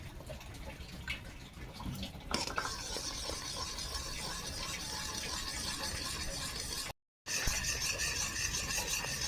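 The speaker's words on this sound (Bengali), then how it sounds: "এইভাবে চামচ দিয়ে বারে বারে নাড়তে হবে" A spoon stirs hot milk mixed with milk powder in a pot while cooking modak, giving a continuous scraping, rasping sound with faint bubbling, steady throughout and broken by a brief gap near the end.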